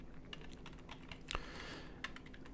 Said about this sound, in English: and type my website.